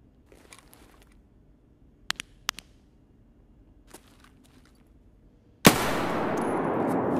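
A large-calibre gun fires in the video game Escape from Tarkov: a few sharp, distant-sounding shots, then one loud blast that leaves a sustained roar. No one speaks.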